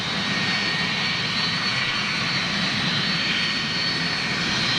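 Engines of a United jet airliner roar loud and unbroken, a dense rumbling whine that holds steady throughout.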